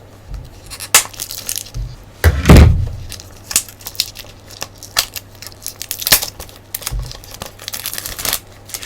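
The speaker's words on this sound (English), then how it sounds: "I'm going to utilize this nifty pair of scissors to render an aperture in the cellophane." Scissors snip and crinkle through the cellophane wrapping on a Splatoon Wii U game box, with scattered sharp clicks and one louder crumpling burst, close up and without talk.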